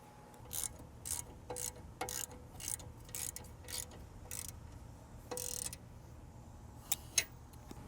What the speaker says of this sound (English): I'm gonna get a deep socket and use a ratchet